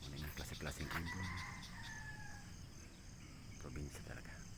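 A rooster and hens in an outdoor rural morning soundscape at sunrise, with clucking and crowing amid birdsong and a steady background of crickets.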